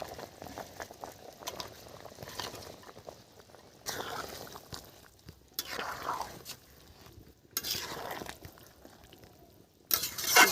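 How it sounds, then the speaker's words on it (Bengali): Fish curry broth bubbles at a low boil in a pan, a soft, quiet simmering with intermittent louder bursts near the end. "ঝোল ফুটছে, এখন মাছ দিয়ে দিচ্ছি।"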